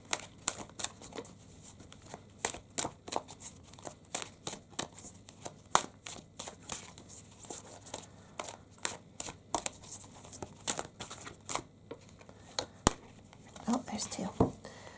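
Tarot and numerology cards are shuffled and drawn from a deck, producing many quick papery flicks and slaps in an irregular rhythm, close and crisp over a faint background hum.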